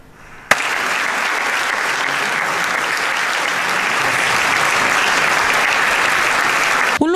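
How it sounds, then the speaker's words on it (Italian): An audience in the Teatro Morlacchi in Perugia bursts into loud, sustained applause that starts abruptly and holds steady, dense clapping from a large crowd for several seconds. "Un applauso accolto nel Teatro Morlacchi di Perugia il maestro Pupi Avati"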